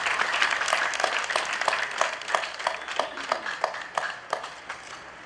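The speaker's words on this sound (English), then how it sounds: "Round of applause, round of applause." Audience applause at a prison inmate graduation ceremony at Mile II headquarters in Banjul, steady scattered clapping from a crowd with sharper individual claps standing out, moderately loud and continuous for several seconds.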